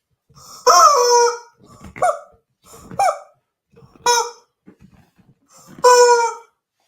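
Backyard chickens give five loud, close clucks and squawks in irregular bursts with short gaps between them, no talking over the calls.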